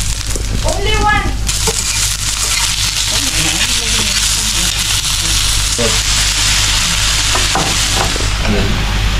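Garlic sizzling in cooking oil in a pan for beef tapa, a steady close hiss with occasional stirring scrapes, while voices, including a child's, talk over it.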